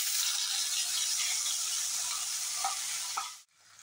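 Spice paste hits hot oil in a pan over a medium-low gas flame while cooking khichuri, giving a steady, loud, hissing sizzle that holds for about three seconds before cutting off abruptly.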